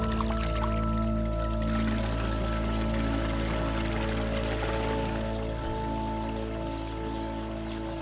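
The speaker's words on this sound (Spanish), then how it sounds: "y además oyes correr el sonido del agua" Steady rushing water of the Palancia river in Castellón, Spain, flows continuously and fairly close, a broad even wash of stream noise with a low hum underneath.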